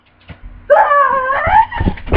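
A dog gives a drawn-out whine or whimper at close range, lasting about a second, with faint thumps and rustling around it.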